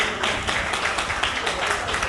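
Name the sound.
applause at a Mende naming ceremony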